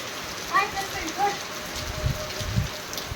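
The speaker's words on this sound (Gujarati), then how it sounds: "અત્યારે વરસાદ ચાલુ થઈ ગયો" An afternoon rain shower falls steadily, making a constant broad hiss throughout, with brief faint voices near the start.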